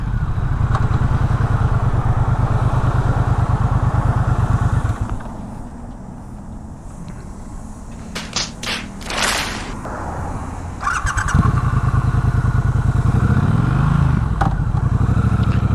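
A Triumph Bonneville Bobber motorcycle engine runs steadily, then abruptly stalls after the kickstand catches, leaving a quieter stretch with clunks and rattles before the engine starts again.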